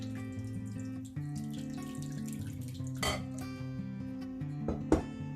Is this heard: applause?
no